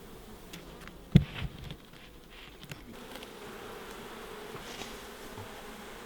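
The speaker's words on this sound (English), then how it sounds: "you can just shake some bees out in front of it, and the nurse bees will run up into here and the other ones will fly home" Honey bees buzzing around an open hive during a natural split, a faint, diffuse hum of many insects with a few sharper passes close by, steady and low in level with no talk.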